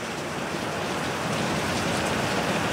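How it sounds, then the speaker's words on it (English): Heavy rain pounding down steadily in a wet, tropical Kauai setting, a dense continuous hiss and patter that stays close and loud throughout with no voices. "Sound of the pounding rain."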